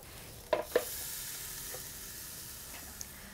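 A flat iron steak sizzles on a grill with a steady hiss, punctuated by a couple of sharp clinks or taps near the start, no one talking.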